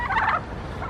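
Barnyard turkeys gobbling in a short, close, loud burst of warbling calls that fades quickly.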